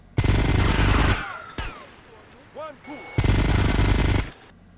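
Two loud sustained bursts of machine gun fire in GTA Vice City rattle out, separated by a short gap, with brief talk in between.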